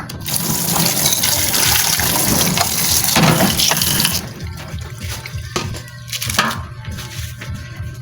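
Tap water gushes steadily into a kitchen sink during dishwashing for about four seconds, then cuts off, leaving quieter clinks and clatter of plates close by.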